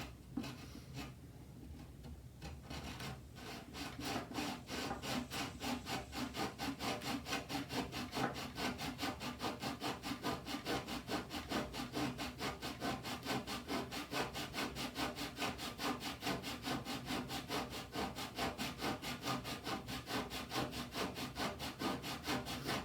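A hand saw cuts through the neck of a Yamaha classical guitar in steady, fast back-and-forth strokes. The wooden rasping is close, rhythmic and sustained, with no talk over it.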